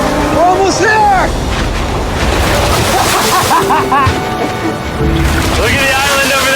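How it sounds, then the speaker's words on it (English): Big ocean waves rolling toward a small boat heading for an island, with a steady roar of surf and water, heavy wind buffeting the microphone, and voices talking over the noise. "Those waves look really big over there. And they're coming right at us."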